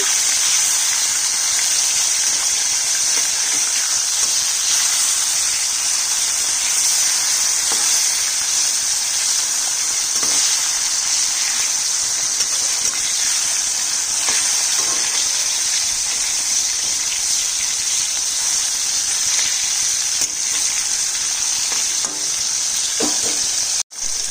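Katla fish frying in hot oil in a home kitchen pan, giving a steady, loud, continuous sizzle and crackle that holds evenly throughout with no talking, ending with a brief clatter.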